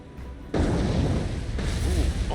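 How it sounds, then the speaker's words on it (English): Torpedoes slamming into a ship in the naval video game War on the Sea, a heavy, deep boom that erupts suddenly and rumbles on loudly. "Oh, struck by 3 torpedoes, all 3 hit."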